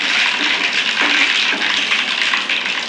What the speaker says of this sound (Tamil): கடுகு பொரிஞ்சிடுச்சு.